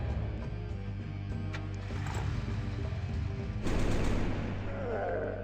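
Units firing in the Final Liberation Warhammer Epic 40k game: steady mechanical rumble, then a dense crackling volley of fire joining in partway through.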